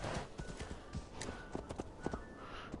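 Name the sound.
horse hooves clip-clop in video game Assassin's Creed Valhalla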